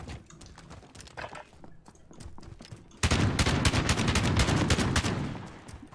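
Shotgun gunfire in the video game Call of Duty Modern Warfare: scattered shots over a low rumble, then a sudden loud, dense volley of rapid blasts from the midpoint onward.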